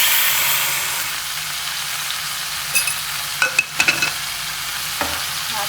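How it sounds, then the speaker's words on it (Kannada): Chopped tomatoes sizzle steadily in a hot frying pan, with a few sharp scrapes and clicks of a spoon stirring through them midway; no talking. "Mix it well. Tomato hockey, ಹೆಚ್ಚಿರೋ tomato."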